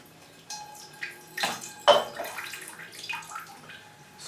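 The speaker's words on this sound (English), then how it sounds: "But water it we will." Water poured onto a potted orchid, uneven splashing and trickling bursts that rise and fall in several separate pulses, close and fairly quiet, with no talk.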